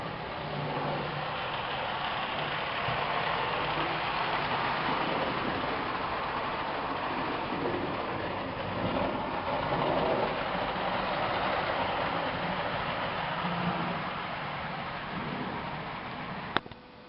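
A Marx toy train rumbles steadily along its track for a long stretch, a continuous whirring, rattling drone, fairly close and without voices.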